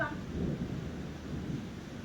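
A thunderstorm with rain breaks over an evening, giving a steady, fairly loud low rumble with a broad wash of rain noise that holds for about two seconds with no talk.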